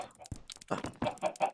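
Minecraft chickens cluck in short, repeated bursts, close and fairly loud, with a few sharper squawks mixed in.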